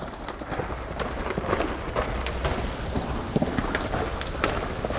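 A green young horse carrying a rider outdoors moves at a lope, its hoofbeats a rolling, uneven thudding over a steady background rush, moderately close, with no clear talking.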